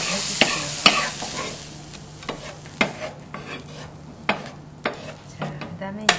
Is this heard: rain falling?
no